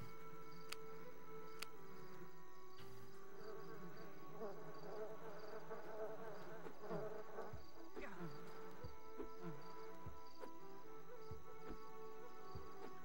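Bees buzz in the Xbox game Lord of the Rings: The Fellowship of the Ring, a soft continuous droning hum that sits low in the mix with game ambience around it.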